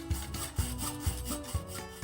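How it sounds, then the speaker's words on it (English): A hacksaw cuts through thin tubular metal in slow, steady strokes, with four rasping pushes about half a second apart, heard up close with no talking. "Using a hacksaw to cut thin tubular metal like this is perfectly fine, but it's slow going and takes a lot of effort."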